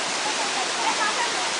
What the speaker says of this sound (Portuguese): A Julie tomou um banho de cachoeira.